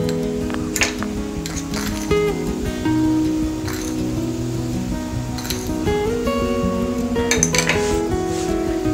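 Coriander powder, red chilli powder and salt being stirred into green pea kachori filling in a pan, spoon clinking and scraping against metal with a faint sizzle under continuous background music.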